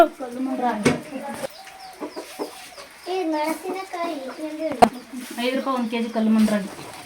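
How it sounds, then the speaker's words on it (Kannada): Chickens cluck and squawk close by in short bursts, mixed with people talking and a couple of sharp knocks. "ಇರೋ ಬರೋ ಕೋಳಿ ಇರ್ತವೆ ಎಲ್ಲ ಓಡ್ ಬರ್ತವೆ"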